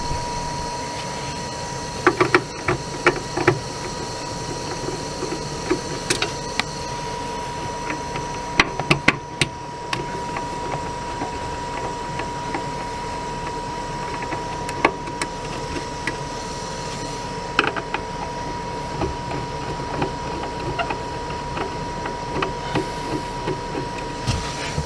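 A converter's cooling fan running with an odd, steady mechanical whir and a constant hum, punctuated by scattered clicks and ticks, with no talking.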